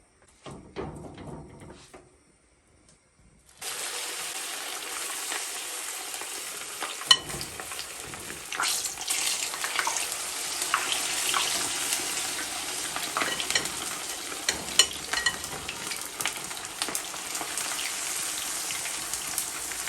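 Red snapper pieces dropped into hot oil on a stove between medium and high heat, starting with a few faint sounds, then a brief silence, then a sudden loud, steady sizzle of frying that continues with crackles and pops to the end.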